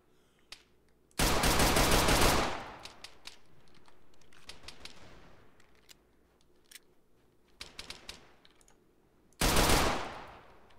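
Rapid bursts of automatic paintball gunfire in an ARMA 3 paintball battle, two long loud rattling volleys near each other with scattered shorter shots and clicks between, fairly close, with no talk.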